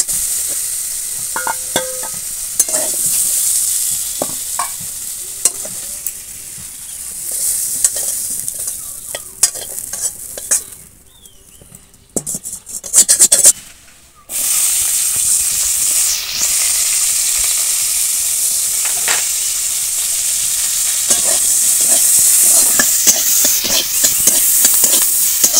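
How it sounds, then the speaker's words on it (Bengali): Bitter gourd pieces fry in oil in a pan while shukto is being made, producing a loud, continuous sizzle with bursts of stirring and scraping that pause briefly midway before the sizzle resumes strongly. "উচ্ছেগুলো একদম খুব সুন্দর করে ভাজা হয়ে গেছে"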